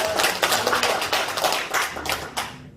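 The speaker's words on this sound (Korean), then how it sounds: "우리 한번 우리 기쁘게 우리 박수로 환영할까요?" A church congregation at a Sunday worship service claps to welcome a returning member, giving a brisk, uneven patter of hands from a modest crowd for a few seconds, moderately loud, then fading out.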